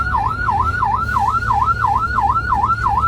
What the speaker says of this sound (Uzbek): 165 chekkaga oling, xalaqit qilyapti tez yordamga.